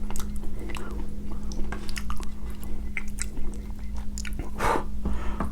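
Close, wet chewing of naan bread at an Indian food meal, with soft biting and squishy mouth sounds repeating steadily over a low constant hum.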